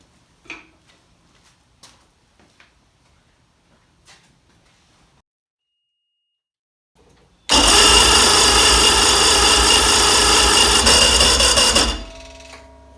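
Sea Doo Speedster jet boat with a Mercury Sport Jet engine cranks for about five seconds, a loud, steady churning roar close up, after quiet clicks and taps. It stops abruptly without catching.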